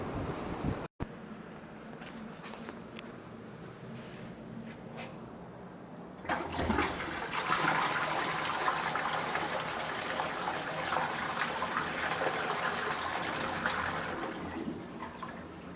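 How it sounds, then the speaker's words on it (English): A weak flush from a 1990s-refurbished public toilet in Boscombe: a quiet rushing and trickle of water that swells after a few seconds into a steady, moderately loud gush and keeps running, with no talking. "Absolutely weak flush on that one."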